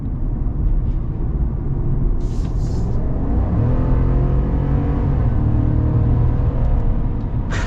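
A 2022 Chevy Silverado ZR2 pickup with a 6.2 engine accelerates onto an interstate, heard from inside as a loud, steady low rumble with a gradually rising engine tone and road noise.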